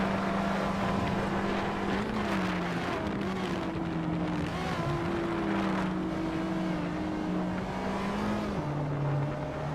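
Several race car engines, one a 2010 Volkswagen Golf GTI, drone continuously at close range, their steady tones rising and falling slightly with the throttle over wind noise.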